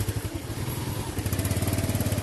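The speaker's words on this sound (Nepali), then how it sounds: "बाइक उताबाट आएको हुनाले हामीले जान मिलेको छैन" A motorcycle engine approaches on a narrow suspension footbridge path, its mid-pitched putter pulsing steadily and growing more regular and closer over about two seconds, with no talking.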